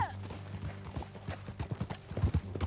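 Horse hooves clip-clopping on the ground in the Red Dead Redemption video game, an uneven trotting patter of close hoof strikes that grows louder toward the end, with faint game sounds around it.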